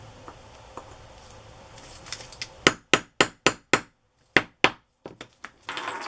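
Hammer blows on an eyelet setter punching paper craft stock: about eight sharp, close, loud strikes in an uneven rhythm, with quieter handling taps and rustles before and after.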